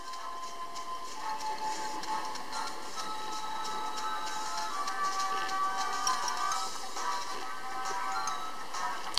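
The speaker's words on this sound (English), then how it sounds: "Looks like an excited Alohan train has come to us." Arriving train in a Pokémon video game set in Alola, a steady broadband rumble with faint tonal whines and clattering, continuous and fairly quiet for about nine seconds.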